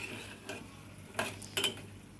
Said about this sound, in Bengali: এভাবে আমি আবার ঢাকনাটা উদলায় দিয়ে আবার কষিয়ে নেব।